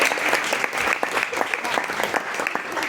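Audience applause at a support group gathering, a dense, steady burst of clapping from a welcoming crowd that fills the whole stretch with even loudness.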